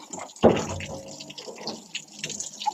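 River water splashes and trickles close by after a landslide, with a sudden louder gush at the start, then steady running and dripping.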